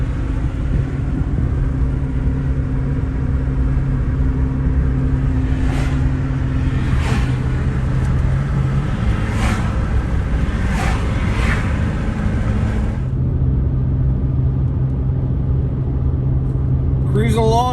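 Vintage car cruising at 66 mph on a country road in southern Indiana, with a steady loud engine and road rumble throughout and faint whooshes of passing air.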